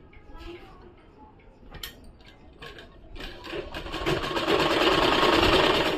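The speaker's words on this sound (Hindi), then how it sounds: "अब मैं इसे इस पे सिलाई चलाऊंगी।" A sewing machine stitches a salwar suit, starting with a few hesitant clicks and short bursts before settling into a loud, fast, continuous mechanical whir up close.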